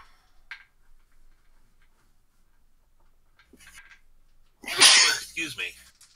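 A single loud, close sneeze bursts out near the end of a mostly quiet stretch at a tabletop role-playing game session, preceded by faint brief voices and small clicks.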